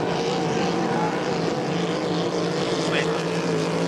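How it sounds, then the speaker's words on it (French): A racing boat powers hard out of the second turn of a course at St-Félicien, its steady engine roar loud and continuous throughout, with a commentator's voice running over it. "Beaucoup de stabilité pour l'embarcation de Hensbury qui est très rapide à la sortie de ce virage"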